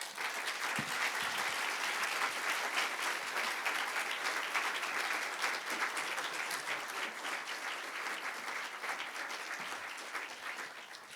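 An audience applauds at the close of a keynote talk, a sustained dense wash of clapping from many hands that continues steadily throughout and fades slightly toward the end.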